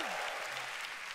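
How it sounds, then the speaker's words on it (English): Dense, steady audience clapping in a church service, fairly quiet and distant, a continuous wash of many hands with a faint voice briefly in the background. "give the Lord a big clap"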